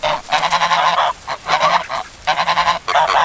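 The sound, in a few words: turkeys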